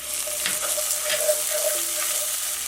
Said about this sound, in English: Add 1/8 teaspoon of asafetida and 1 teaspoon of finely grated ginger.